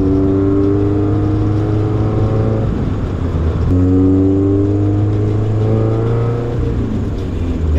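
A Toyota AE86 fitted with a Honda K24 engine and custom exhaust revs loudly up close, engine pitch climbing and falling through two or three rev sweeps with a steady drone beneath.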